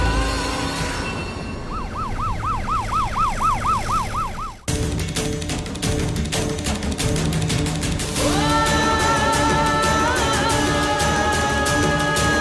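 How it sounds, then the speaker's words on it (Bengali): An ambulance siren wails in a fast, rising-and-falling pattern for a few seconds, loud and close, before it is cut off and music takes over. "অ্যাম্বুলেন্স!"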